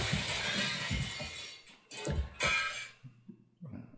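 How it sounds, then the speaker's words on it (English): Glass shatters in a series of sharp crashes and tinkling fragments, a few separate bursts followed by scattered falling shards. "Glass crashing."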